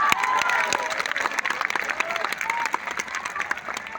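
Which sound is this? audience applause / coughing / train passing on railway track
audience applause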